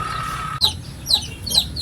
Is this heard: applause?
no